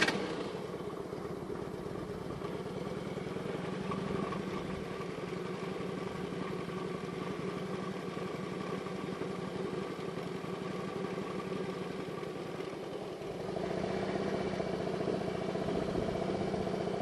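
A motorcycle engine runs steadily during slow U-turn practice, idling and gaining a little RPM, with a louder rise near the end; a steady mid-range drone, fairly close.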